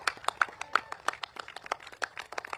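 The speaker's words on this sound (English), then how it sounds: "Let's give her a big round of applause, please." Scattered claps ring out from the crowd at a political election rally in Singapore, faint and uneven, a few sharp hand claps spaced irregularly rather than a full roar of applause.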